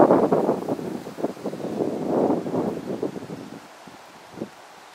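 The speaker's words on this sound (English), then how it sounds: "It's very windy out, so excuse me." Gusty wind buffets the microphone outdoors on a Wisconsin lakeshore near the water line, in rumbling bursts, strong at first and easing toward the end.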